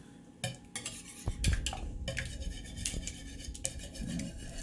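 Eggs for an egg pie being mixed together in a bowl, a close, quiet run of scraping, clinking strokes with a few sharper knocks and no voices.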